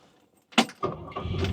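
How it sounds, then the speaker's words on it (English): A short jingle of keys, then a 1965 Chevrolet Impala SS 327ci V8 engine cranks and catches, settling into a low idle close by. "Car starts right up."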